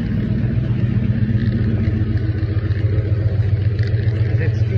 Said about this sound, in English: Oh, there's another motorcycle.